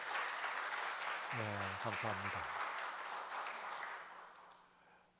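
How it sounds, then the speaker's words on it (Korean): A church congregation at a Wednesday worship service claps together in sustained applause that gradually fades away, while someone speaks briefly over it. "서로 격려하고 축하하는 박수 한번 하십시다."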